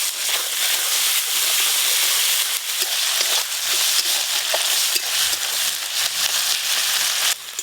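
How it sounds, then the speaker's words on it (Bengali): Ginger garlic paste fries with chopped onions in hot oil, giving a loud, dense, continuous sizzle. A few scrapes of stirring come through, and no one speaks. "পেঁয়াজ আদা রসুন ভালো করে ভেজে নিয়েছি"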